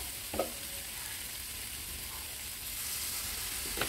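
Spice masala of salt, cumin and coriander frying in a pan for a Bengali fish curry, a steady hiss of sizzling under scattered scrapes and clinks of a spoon stirring, with no one talking.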